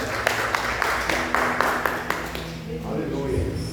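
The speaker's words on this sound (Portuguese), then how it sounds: "Aplauda o Senhor" A church congregation claps during an evening worship service, a steady rhythmic patter of many hands with a voice carrying over it.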